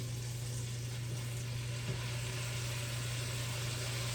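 Greens sautéing in a pan beside smoked ham, a constant broad sizzling hiss over a steady low hum, even and unbroken throughout with no speech.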